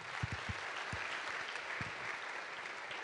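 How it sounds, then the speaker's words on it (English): Conference audience at a robot learning event applauds after the authors of a paper are announced, a steady mid-distance clapping that fills the room, with a few louder thumps near the start. "Applause again."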